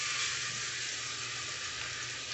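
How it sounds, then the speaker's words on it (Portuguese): Vegetables, including bell pepper, frying in a thin drizzle of oil in a pot, giving a steady, even sizzle that holds close and constant throughout with no talking. "Agora a gente vai colocar aqui na panela com um fiozinho só de óleo."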